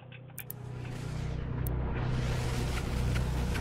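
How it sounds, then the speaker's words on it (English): Plasma fire shattering an enemy energy shield and setting off a damage explosion in the video game DOOM Eternal, a dense, loud roaring blast with sharp crackling bursts near the start that swells and holds steady, with no voices. "The plasma can quickly destroy energy shield, which will trigger damage explosion"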